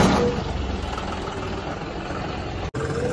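A John Deere 5210 tractor engine running at a steady idle, a constant low rumble close by with a brief dropout near the end.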